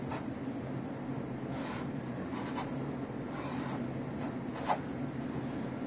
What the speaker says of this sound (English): you will need to draw the diagram